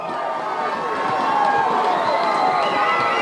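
A football crowd at a high school game between Ocean City and Middletown North roars and cheers steadily, a dense and loud wash of voices that swells slightly and holds throughout.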